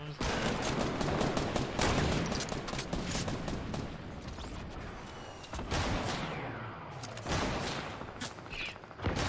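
Rapid gunfire in a shooter video game, dense bursts of automatic shots with scattered single cracks, loud and continuous, briefly easing before resuming.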